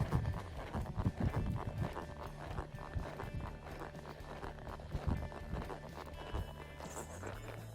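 Horse walking calmly on a loose rein, its hooves giving a steady, close clip-clop rhythm throughout, with a faint low hum in the background.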